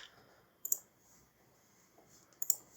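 Two quick pairs of sharp computer mouse clicks, close and quiet, spaced apart by a near-silent pause, as a user works in the Unity game editor.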